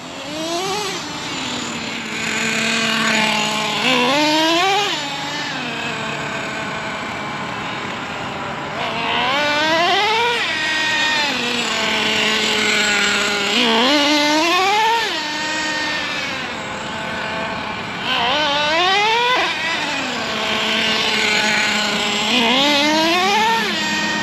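A worn, overdue-for-service Traxxas T-Maxx nitro RC truck engine buzzes on grass while warming up, with repeated sharp high-pitched revs climbing and dropping over a steady idle drone, loud and close.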